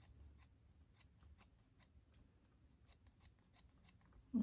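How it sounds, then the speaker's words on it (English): Rapid snipping of dull scissors cutting paper, a series of crisp, quiet clicks in an irregular rhythm, close by in a quiet room. "My scissors need sharpening"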